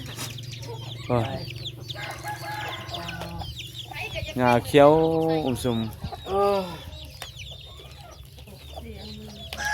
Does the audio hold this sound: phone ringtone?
no